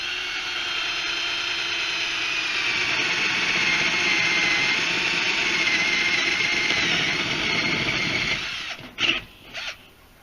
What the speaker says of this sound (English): Just going to drill a hole so I can start cutting on the circle.